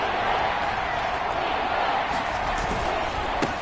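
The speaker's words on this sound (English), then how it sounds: "this crowd's going to get even louder" A stadium crowd in a PS4 American football game keeps up a loud, continuous roar with a brief thump near the end.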